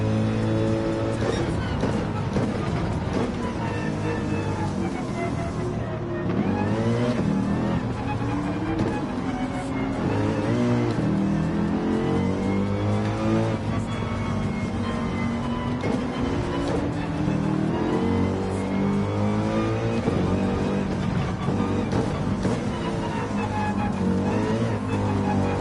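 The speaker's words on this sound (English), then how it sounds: "I feel like driving the AMG, it doesn't feel as snappy on the turn-in like the Ferrari or the 911." Mercedes-AMG race car in a racing game, engine roaring continuously with shifting pitch as it accelerates and brakes through corners, loud and close, with a voice faintly underneath.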